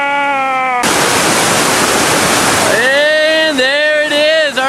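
Loud, roaring whitewater of Lost Paddle, a long, continuous four-part rapid on the Upper Gauley River, with broad rushing noise surging in after a moment. Someone speaks over the steady roar for the rest of the clip.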